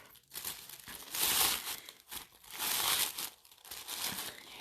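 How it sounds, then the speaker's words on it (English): Yellow tissue paper gently peeled up from the layers beneath it, giving close, papery crinkling and rustling in three swelling bursts with short pauses between them, and no voices. "all you're going to do is gently peel that yellow tissue paper up from the other pieces of tissue paper"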